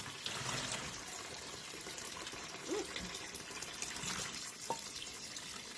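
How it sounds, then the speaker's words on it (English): Steady gushing water at a kitchen sink as freshly cooked green beans are poured into cold water, a continuous close wash of liquid with a few faint clinks. "So now I need to hurry up and take them over to the sink and blanch them with some cold water."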